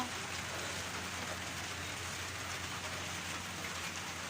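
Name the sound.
rain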